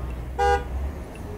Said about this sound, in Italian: Suona la macchina.